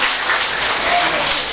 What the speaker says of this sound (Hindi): इनके जोरदार तालियों से स्वागत करेंगे।